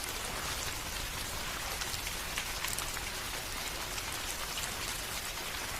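Steady rain on a stormy night as an animation sound effect, a dense, even hiss of drops falling on surfaces, moderately faint and unbroken throughout.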